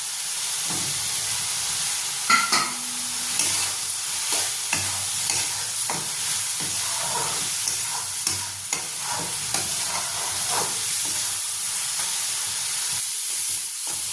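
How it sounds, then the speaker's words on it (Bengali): Fried potatoes are stirred into a pan of sizzling spice masala, giving a continuous near hiss of frying with frequent spatula clatters and scrapes throughout. "আর এবার আমি ভেজে রাখা আলুটাকে এর মধ্যে দিয়ে দিচ্ছি।"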